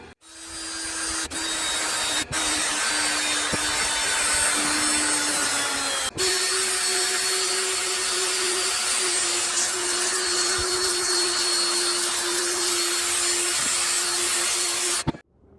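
A Harbor Freight axe head is polished with an 80-grit sander in a power tool. The grinding abrasive hiss is loud and continuous over a steady motor whine, with a few brief dips as the tool shifts.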